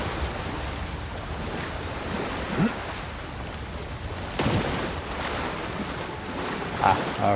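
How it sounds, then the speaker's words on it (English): A waterfall in the fantasy video game Avowed gives a steady, broad rushing wash of water that continues throughout, with a few brief clicks and game effects cutting through it. "Waterfall."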